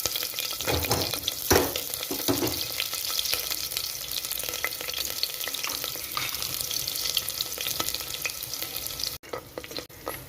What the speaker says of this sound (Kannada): ಈಗ ಅದಕ್ಕೆ ಸಾಸಿವೆ ಹಾಕಿದ್ದೀನಿ. ಇದಕ್ಕೆ ಇವಾಗ ಕಟ್ ಮಾಡಿರೋ ಈರುಳ್ಳಿ ಸ್ವಲ್ಪ ದಪ್ಪಗೆ ಕಟ್ ಮಾಡಿದ್ದೀನಿ